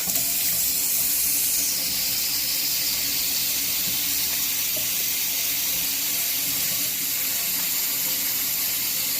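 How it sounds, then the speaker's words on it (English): Water pours loudly and without a break from a tap while a person's hair is washed and the scalp is scrubbed with the fingertips. The rushing hiss is close and fills the whole stretch. "So now, to get to the scalp, I'm using the fingertips of my hand to get in there and scrub in her scalp."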